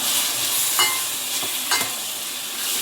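Curry is stirred in a pot over a low sizzle, with three or four distinct scraping strokes of a spoon against the metal.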